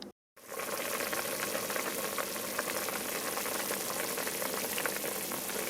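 Lentil soup in water heats in a pot toward a boil, giving a steady, close, hissing simmer with faint bubbling pops that runs on evenly after a brief silence at the start.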